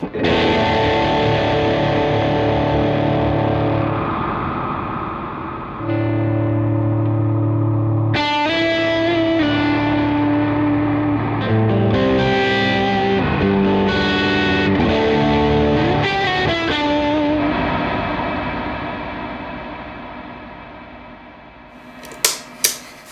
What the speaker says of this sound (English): flashes of lightning, roars of thunder